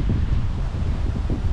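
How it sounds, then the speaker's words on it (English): Wind rushes steadily over the microphone in a loud, low rumble, with no talking. "it's getting a bit windy now"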